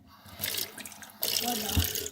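Tap water runs steadily into a sink for a pet cat indoors, a continuous wash of flow that grows louder partway through, with someone speaking over it.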